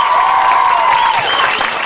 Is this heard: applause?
yes